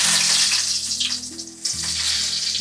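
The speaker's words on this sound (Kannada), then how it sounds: "ಕರಿಬೇವು ಹಾಕ್ತಾ ಇದ್ದೀನಿ." Curry leaves sizzle and crackle in hot oil, a loud, close, continuous frying hiss, with a low hum underneath.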